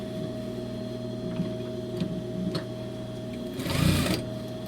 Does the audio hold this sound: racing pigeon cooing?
no